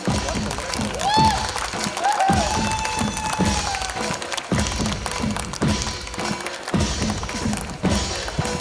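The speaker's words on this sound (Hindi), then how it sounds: "तालियां बनती हैं।" Audience applause at a felicitation ceremony in a televised Hindi historical drama production event, steady clapping with some thumps and a crowd behind it, moderately loud and sustained throughout, with a little background voice.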